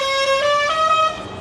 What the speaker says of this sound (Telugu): హారన్ దింది లారీది